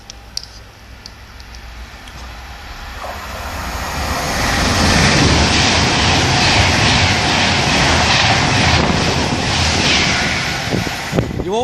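A Virgin Trains Pendolino races through Acton Bridge station, starting as a building rumble and growing into a loud, sustained roar with hissing rail and wind noise as it passes close by, then fading at the end.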